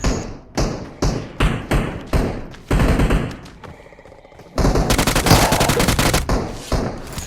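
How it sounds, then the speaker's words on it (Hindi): UMP submachine gun fire in PUBG Mobile: several short, punchy bursts in quick succession, a brief lull, then a long, loud continuous spray of rapid shots close up. "तो मैं इसको UMP का स्प्रे देता हूँ, प्री फायर देता हूँ"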